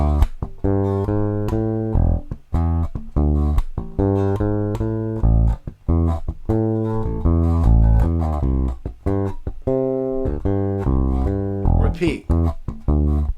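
Bass guitar slowly working through the verse line of a song, a steady run of plucked repeated notes in a driving rhythm, close and loud with no talking over it.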